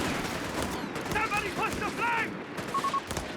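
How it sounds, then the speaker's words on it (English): Machine gun bursts and scattered gunfire crackle in the background of a Company of Heroes 3 battle, fairly faint and mixed with other game sounds and voices. "Machine gun suppressing them, force them away."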